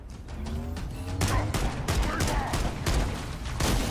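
Rapid pistol gunfire from the Halo Campaign Evolved game, with dense overlapping shots and sharp impacts that fill the whole stretch at steady, loud volume alongside other combat effects.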